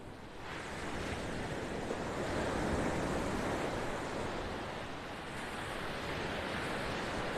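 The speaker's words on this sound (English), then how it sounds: "Loving the sounds of the waves here." Ocean waves wash steadily onto a beach in North Naples, Florida, a continuous broad rushing surf with gentle swells and light wind, heard alone without voices.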